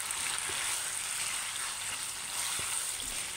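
Chicken simmering in its own released juices in a pan, a steady, even bubbling sizzle with a few soft clicks, heard alone without talk.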